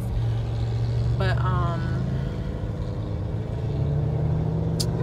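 A loud car engine idles and rumbles nearby at a stoplight, a low steady drone that persists throughout with a brief vehicle squeal over it.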